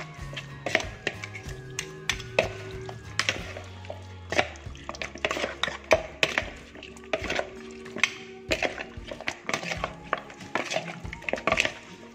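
A utensil scrapes and clanks around a bowl in quick irregular strokes, mixing cornstarch into chicken for Hainanese rice, busy close kitchen clatter with no talking.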